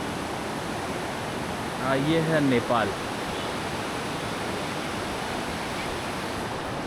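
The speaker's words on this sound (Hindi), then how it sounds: "ये है काली नदी।" The Kali river rushes along the India–Nepal border near Dharchula, Uttarakhand, a loud, steady roar of flowing water that fills the whole stretch while someone speaks briefly over it.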